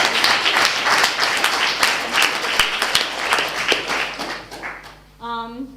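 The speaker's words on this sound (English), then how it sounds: "I personally think that it deserves a round of applause." A panel audience at an entrepreneurship event gives a round of applause, dense clapping that holds steady and then fades, with a voice starting to speak at the end.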